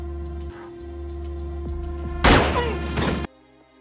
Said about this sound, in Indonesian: Dia menembak mati si Peter